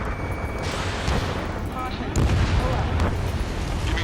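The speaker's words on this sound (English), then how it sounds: "Gunfire and the roar of jets echoing through the streets." Dense, rumbling gunfire, jet roar and booms fill a noisy battle scene in Ace Combat 7: Skies Unknown, with a voice speaking partly under the din.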